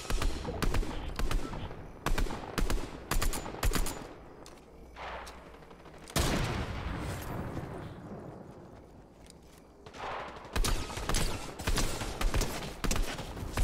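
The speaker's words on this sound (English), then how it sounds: "I'm shooting, Teddy." Rapid bursts of gunfire in a Fortnite duo squads match crack out in quick clusters, loud and close, with brief pauses and a longer rumbling stretch between volleys.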